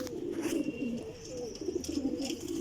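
Champion high-flying pigeons coo in a low, throaty, repeated rhythm, a steady close-up murmur of overlapping calls with no voices over it.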